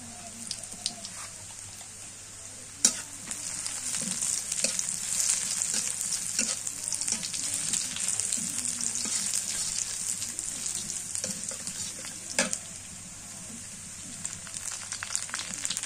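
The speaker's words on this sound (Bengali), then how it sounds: "দিয়ে দিই জিরা আর কালো জিরা।" Cumin and black cumin seeds fry in hot oil with a continuous crackling sizzle, close and steady, punctuated by a couple of sharp pops or clatters in an outdoor village kitchen, with no talk.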